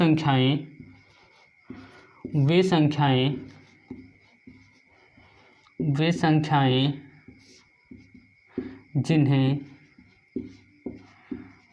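Faint pen or chalk scratches of writing during a Class 9 maths lesson, heard mainly in the pauses between a teacher's spoken explanation, which dominates the clip.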